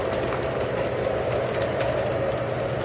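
Model trains, including diesel locomotives, roll slowly around a home layout track, giving a steady low rumble and hum that continues without break and without talk.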